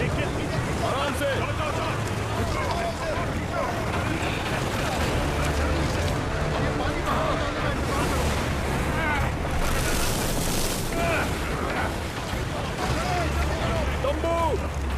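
Heavy sea waves surge and crash around a small oar-powered boat in rough water, a dense, constant roar of surf and wind from start to finish, with voices calling out over it.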